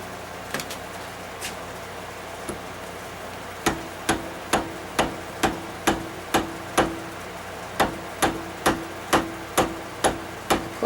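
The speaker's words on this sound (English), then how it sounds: "I probably should have my smaller hammer" A hammer striking steadily on a trike and cart build, sparse blows at first then a regular run of sharp, evenly spaced strikes close by, over faint background hiss.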